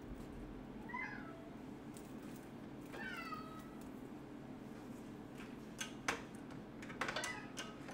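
A house cat meows twice, a rising call early on and a clearer one a couple of seconds later, over a quiet indoor hum, followed by scattered light plastic clicks and taps of PC parts being handled, with no talking.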